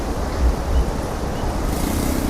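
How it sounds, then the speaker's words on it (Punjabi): Floodwater in a swollen river rushes past at full speed with open floodgates, a loud, steady, broadband roar of churning water and wind buffeting throughout, with no voices. "ਤੇ ਪਾਣੀ ਪੂਰੀ ਸਪੀਡ 'ਚ ਚੱਲ ਰਿਹਾ"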